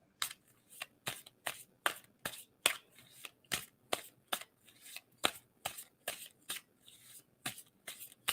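Playing cards are shuffled repeatedly close by, a rapid series of crisp riffling bursts in an irregular rhythm, fairly quiet with no talk.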